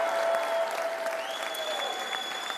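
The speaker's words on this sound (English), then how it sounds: "how about a round of applause for the thousands of fans at Fountain Square?" Loud, dense applause and crowd noise from a large audience at a soccer club expansion announcement, sustained throughout with faint whistles or cheers rising above the steady roar.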